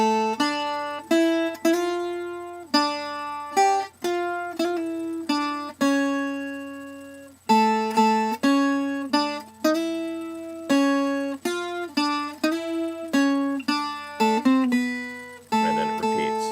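Solo guitar plays the Coro of Cuatros y Guitarras in second position: a clear plucked melody with slurs and pull-offs, steady and unaccompanied, ending on a sustained note.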